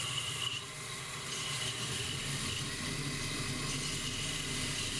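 Sandpaper rubs against a spinning wooden fishing rod butt cap on a lathe, a steady close-up rasping hiss over the constant hum of the machine.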